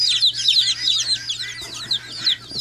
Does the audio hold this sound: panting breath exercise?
no